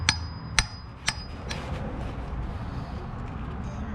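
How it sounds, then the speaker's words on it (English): Sharp metallic taps of a hammer on an impact socket knocking the hub assembly out of a camper wheel: four distinct close strikes spaced about half a second apart, then quieter handling and a steady low background. "Just hold on to that, and you just want to kind of tap it"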